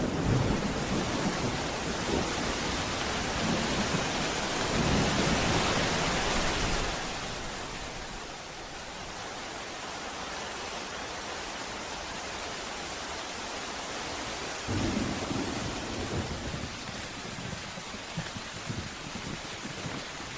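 Heavy rain roars steadily in koala habitat with deep rolling thunder swelling in and out, loud and close, easing slightly midway before building again.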